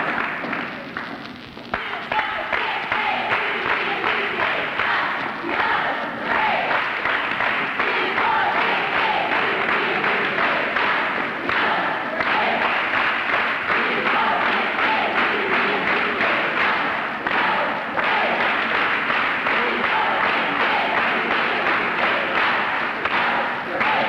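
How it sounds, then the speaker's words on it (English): A crowd cheers along with cheerleaders at the Grinnell Tiger 1986 welcome home celebration, with steady rhythmic clapping and chanting voices filling a large space, loud and continuous throughout. "Cheerleaders leading them into another cheer."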